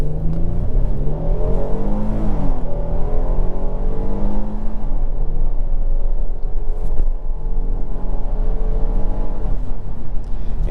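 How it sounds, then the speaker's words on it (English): A 2023 Kia Telluride SX Prestige with a 3.8-liter V6 accelerates at full throttle from a green light, its engine note climbing steadily through the gears in a continuous, loud drone heard from inside the cabin. "I'm just going to floor it when the light turns green"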